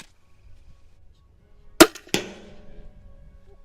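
A 40 mm round is fired at a drum, giving two sharp, loud bangs in quick succession followed by a brief rumbling tail, in an otherwise quiet outdoor setting.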